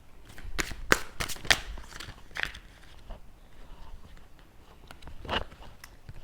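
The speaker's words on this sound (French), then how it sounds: "on tire une carte du jeu de Chantal Pisani" Oracle cards are shuffled and drawn by hand from a deck, with crisp papery riffles and slaps in several quick bursts up close, then softer handling noises.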